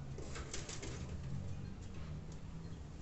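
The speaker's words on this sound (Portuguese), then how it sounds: "esse barulho é de um pombo que fica aqui em cima" A pigeon cooing from a perch overhead beside an orchid potting area, soft repeated low coos under a steady broadband background hiss, fairly faint and distant.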